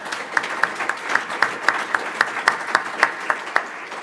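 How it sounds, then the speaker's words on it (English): A small audience claps for panelists at a round-table session, a thin patter of individual claps in a loose rhythm that stays fairly close and even. "Let's give them a round of applause."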